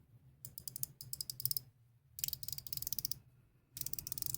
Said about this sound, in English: It's a 120 click bezel.